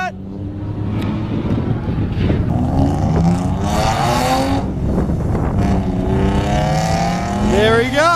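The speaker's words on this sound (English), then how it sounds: "There he goes! Clutch kick!" A BMW drift car revving and clutch-kicking on a track during a drift practice day, engine roaring and rising in pitch as it passes, with an excited voice shouting over it.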